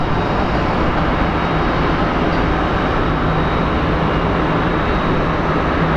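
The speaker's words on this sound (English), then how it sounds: "We have American Airlines 404 departing for Philadelphia from the north side." An American Airlines jet departing from the north-side runway at Phoenix Sky Harbor International Airport for Philadelphia, a loud, steady broadband engine roar that fills the whole stretch without pause.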